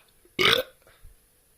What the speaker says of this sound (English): if you burp, it's always a sign of a good beer